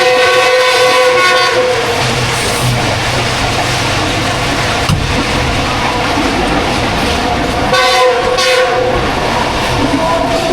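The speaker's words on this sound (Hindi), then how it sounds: "ये वो मज़ा है जो जाफर एक्सप्रेस में आता है, मुसलसल विसल सुनने को मिलता है।" Inside the Jaffar Express heading out of Cantonment toward Quetta at good speed, the loud rumble and clatter of the carriages runs throughout while the horn sounds in long sustained blasts, near the start and again later.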